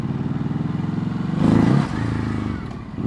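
A Kawasaki KLX 500 motorcycle being ridden, its engine droning steadily and close with a brief surge of revs in the middle, while a person talks over it.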